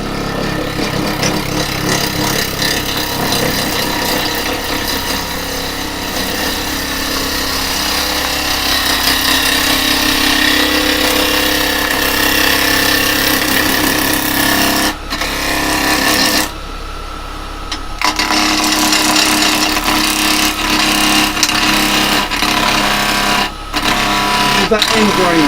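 A wood lathe spins a cherry blank at just over 2000 RPM, giving a steady, loud mechanical whine that runs throughout with brief dips, while someone talks over it.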